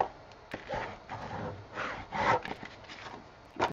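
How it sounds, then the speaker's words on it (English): Paper being burnished down along a fold on an 8x8 scrapbook album page, heard as a few close, soft rubbing and scraping strokes in uneven bursts, with no talking. "I'm going to burnish that down."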